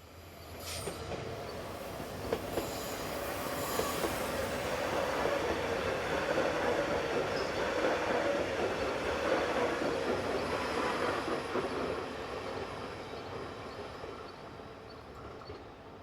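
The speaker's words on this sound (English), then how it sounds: "Arriving into the station from the south is TPF Stadler unit number 527179, with a working from Bulle to Bern." A TPF Stadler multiple unit pulls into a station on a Bulle to Bern working, with a steady rumble rising and then easing. Wheel squeal, faint clicking over the rails and a brief horn-like tone near the start come through with no talk.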